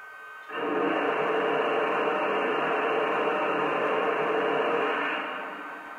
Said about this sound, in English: Here is the steam release sound.